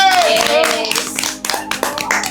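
Hands clap in congratulation for a prize winner, a few sharp, close claps that come in bursts after a sustained musical tone, with some talking mixed in.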